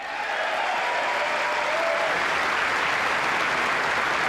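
Sustained crowd applause at a political rally, a dense, steady roar of clapping that holds loud and even from start to finish.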